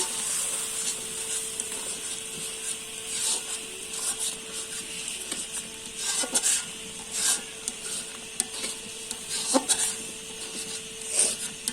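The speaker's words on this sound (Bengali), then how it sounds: "এটা ভালো করে নেড়ে দিতে হবে।" A spoon stirs jackfruit seed curry in a pan, making a steady rubbing scrape over a faint sizzle, with scattered light knocks against the pan.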